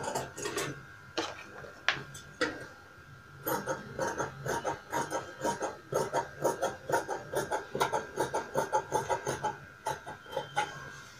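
Scissors cutting a blouse sleeve from fabric: a quick series of crisp, close snipping clicks, sparse at first and then falling into a fast, regular rhythm of short cuts over a quiet background.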